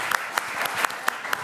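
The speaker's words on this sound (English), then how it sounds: "Give yourselves a round of applause" An audience at a foster care summit breaks into brief applause, a short burst of distinct, fairly sparse hand claps, close and moderately loud.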